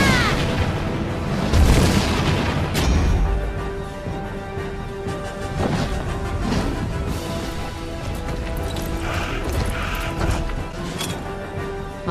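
Cannon fire and explosions from a battle in the video game Drakengard 3: heavy booms cluster early, then scattered impacts and clatter continue over a sustained tonal backdrop.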